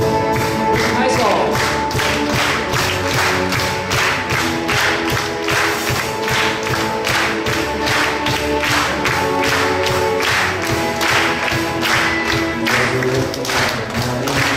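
A church congregation at an anniversary thanksgiving service claps in steady, even rhythm along with an upbeat hymn, many hands beating together under singing and music.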